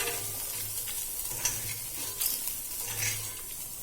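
Dry red chillies frying in a pan, a steady soft sizzle with occasional light scrapes and stirring clinks, close and continuous.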